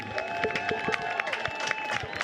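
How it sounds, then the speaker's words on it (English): Crowd at a high school football game applauding a coach, a steady wash of scattered clapping and cheering in an open stadium, fairly loud and continuous with no clear speech. "Nice round of applause for Jason Terrio"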